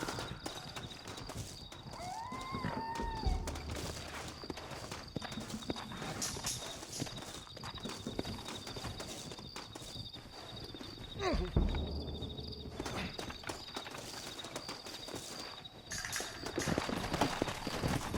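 Horses clop along at a steady walk in Red Dead Redemption, hooves close and clear under a faint cricket-like night ambience, with a short whinny early on and brief voices in the background.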